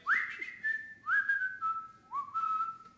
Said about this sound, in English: If anyone's gonna whistle, it'll be me.